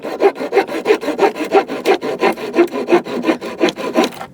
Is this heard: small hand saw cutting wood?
yes